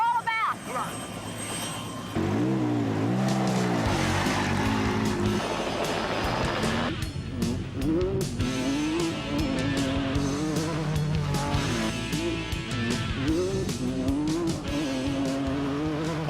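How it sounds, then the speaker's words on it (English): Toyota off-road test race car running through desert trails, a loud engine drone with rising and falling revs and gear changes, close and sustained, with people talking over it. "This is Toyota's off-road test vehicle."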